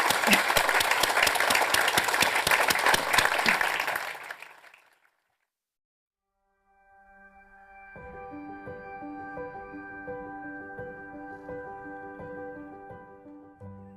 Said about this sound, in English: Warm applause for everybody.